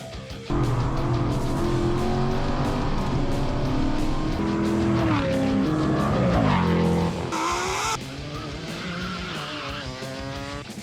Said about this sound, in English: our VE race car is back, it's fixed and ready to go racing